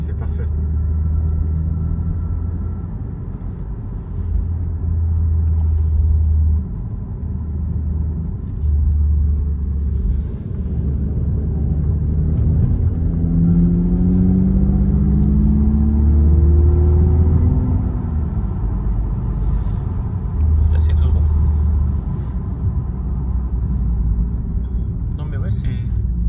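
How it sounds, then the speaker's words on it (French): A BMW M140i 3.0-litre engine runs at a steady, low rumble, with a soft, quiet exhaust note underneath. "C'est assez silencieux en soi, bien aseptisé, avec un petit bruit d'échappement."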